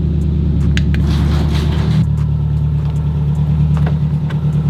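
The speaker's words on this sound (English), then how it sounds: "Let me get away from the exhaust so it's not like crazy loud." Loud, steady exhaust drone from an idling 2005 Subaru STI, up close, with a constant low rumble and a few faint clicks over it.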